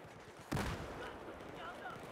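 Gunfire in Battlefield 4 on the Dragon's Teeth map: one sharp, loud shot-like burst near the half-second mark, then a sustained rumbling mix of game noise running underneath.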